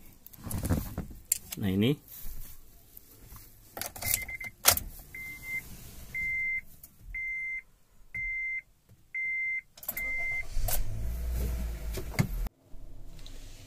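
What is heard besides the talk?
Honda Brio RS car being started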